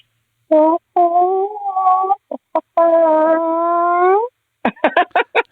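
A person vocally imitates a hen, drawn-out clucking calls followed by a quick series of short clucks, close and clear with no background noise.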